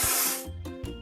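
Spray paint hisses out in a loud, steady burst over a discolored toy construction vehicle, followed by two shorter, quieter puffs.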